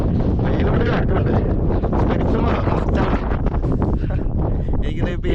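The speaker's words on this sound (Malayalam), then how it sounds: "വെയിലോട്ട് കാറ്റുണ്ട്" Strong wind on a hilltop buffets the microphone in a loud, continuous, rumbling roar with no letup.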